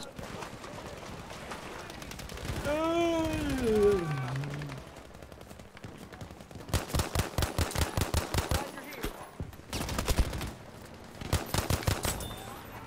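Bursts of automatic gunfire from Battlefield 5 shooter gameplay, rapid rattling volleys in several separate strings after a stretch of talk, loud and close.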